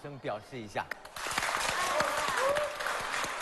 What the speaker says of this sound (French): Applaudissez si vous êtes d'accord.